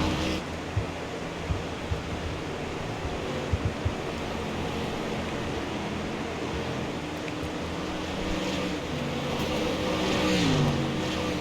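Street stock race cars roar around an oval track mid-race, several running close together, a steady distant engine drone that swells toward the end.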